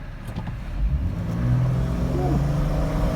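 A 2012 Jeep Wrangler Sahara with the 3.6-liter Pentastar engine and high mileage pulls hard under acceleration, a steady mid-pitched engine drone that builds and holds, heard from inside the cabin with no talking.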